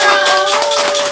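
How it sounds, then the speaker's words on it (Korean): Dense, continuous applause from the audience at an international amateur magic contest, a steady wash of many hands clapping together with a faint sustained tone running underneath. "자, 박수 주세요."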